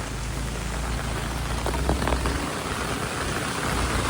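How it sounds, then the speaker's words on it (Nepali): Heavy rain pours steadily on a hill road near Sursing Waterfall in Sindhupalchok, a loud, dense and unbroken hiss with no voices. "कति जोडले पानी पर्न थाल्यो"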